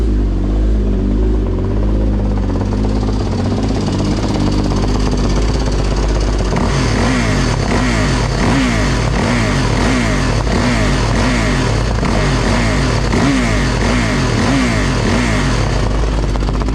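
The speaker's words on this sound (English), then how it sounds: "dirt bike." Dirt bike engine running loud and close the whole time, a steady buzzing drone that shifts into choppy revving and throttle pulses in the second half, with no voices.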